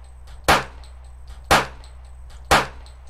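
Three sharp pistol shots from a Unity first-person shooter game, evenly spaced about one second apart, each a loud synthetic crack with a short decay over a low steady hum, no talking.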